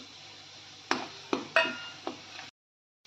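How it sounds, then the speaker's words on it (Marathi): Whole spices drop into a pan of fried onions, giving four short clinks and taps with a soft sizzle beneath, close by, before the sound cuts to silence. "आता एखडे खडे मसाले टाकून घेते मी"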